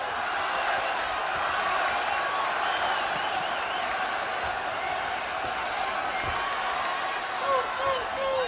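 Boxing arena crowd at the Chavez vs Robinson bout, a broad, distant roar of spectators that swells and holds steady, partly beneath a commentator's talk.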